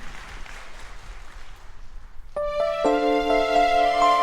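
A congregation at a worship festival claps in a steady wash of applause, then sustained keyboard tones enter and carry on beneath the clapping.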